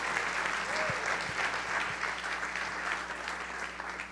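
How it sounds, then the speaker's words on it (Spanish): Church congregation applauding steadily and loudly for the full length, a dense wash of hand claps with a few faint voices mixed in. "Dale un aplauso al Señor."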